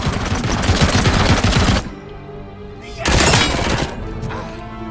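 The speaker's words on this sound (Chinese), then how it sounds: "机枪，重机枪。" Heavy machine gun fire in RoboCop: Rogue City comes in two loud, rapid bursts, a long rattling stream followed by a pause and a shorter second burst, with quieter mechanical noise between.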